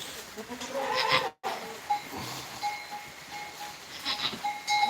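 Adult goats bleat intermittently in a livestock pen where a first-time mother has just given birth, with faint bell-like clinks and rustling in the background; the calls are fairly near but soft.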